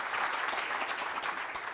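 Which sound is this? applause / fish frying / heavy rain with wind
applause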